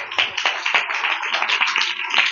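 A church congregation at a Sunday service claps hands in a fairly regular rhythm of sharp, close claps that continues throughout, with no talking.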